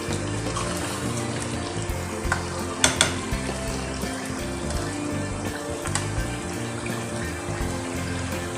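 Chicken achaar gosht cooking uncovered over high heat, a steady close sizzle and bubble in the pan with a few sharp clinks of stirring and no talk.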